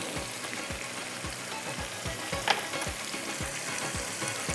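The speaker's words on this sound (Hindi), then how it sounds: "इसको आपने थोड़ा सा इस तरह से भून लेना है।" Spices and turmeric powder sizzle steadily in oil in a pan for chicken karahi, close and continuous, with a regular rhythm of soft scraping as they are stirred and fried.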